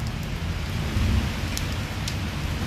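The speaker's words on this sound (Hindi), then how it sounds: "ये देखिए सुभान अल्लाह क्या खूबसूरत बारिश है" Torrential morning rain pours in Islamabad under thunder, a loud, dense roar with low rumbling swells and a few sharp drip accents, close and continuous, with no voices.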